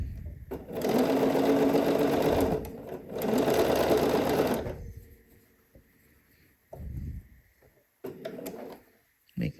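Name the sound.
sewing machine stitching a seam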